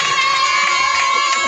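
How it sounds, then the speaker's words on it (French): A hypnosis show audience at a campsite cheers and applauds loudly in a brief, continuous burst of massed voices and clapping. "Ah, c'est applaudi bien fort"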